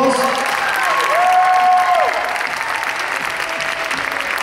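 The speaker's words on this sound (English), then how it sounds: "Let's give a nice round of applause." A crowd applauds between rounds at a novice men's bodybuilding contest, a loud, sustained burst of clapping that slowly tapers off, with an announcer's voice over it.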